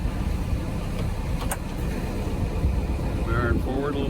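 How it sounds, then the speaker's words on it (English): Idling engine of a 1968 custom-built 43 boat with water flowing through the exhaust, a steady low rumble at moderate level while a voice speaks briefly over it. "Cranks right up. I hear water flowing through the exhaust. And not loud at all."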